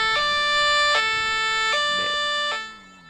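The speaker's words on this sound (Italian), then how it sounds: "le sirene vere che fanno paura sono queste" A video game siren in GTA V wails electronically, stepping between two pitches in a steady hi-lo pattern, loud and close, then fades slightly at the end.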